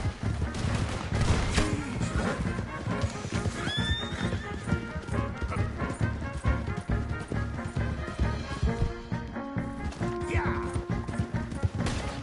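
Gunfire erupts in the Western video game Red Dead amid a chaotic chase, scattered shots cracking over galloping hooves and whinnying horses, with voices shouting through the commotion.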